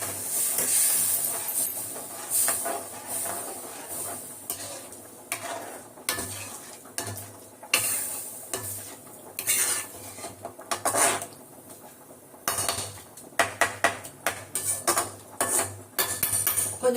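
Tamarind water poured into sautéed bitter gourd for a pavakai kuzhambu, then stirred with a metal spoon, giving scraping clinks against the pan over a steady sizzling hiss with bursts of splashing.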